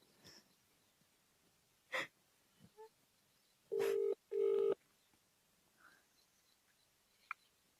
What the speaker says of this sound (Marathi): मी ना माझ्या आजीलाच फोन लावते आता.